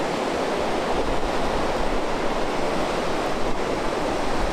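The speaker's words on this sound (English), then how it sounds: "There's waves, they're not that big." Small waves wash onto a beach with flat rocks, a steady, full hiss of surf with no distinct breaks, fairly loud and alone.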